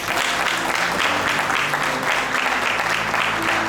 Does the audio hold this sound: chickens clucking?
no